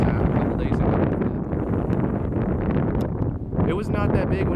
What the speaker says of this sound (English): Hopefully you can hear my voice over the cars and the wind, because it's pretty windy out here in Utah.